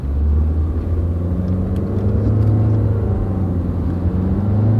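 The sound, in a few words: car with CVT transmission accelerating on a road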